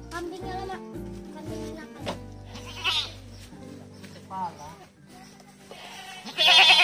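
Goats bleat repeatedly at close range on a small goat-rearing farm, several wavering cries rising over ongoing conversation, with people talking throughout and a louder burst near the end.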